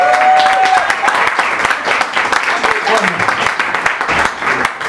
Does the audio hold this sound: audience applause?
yes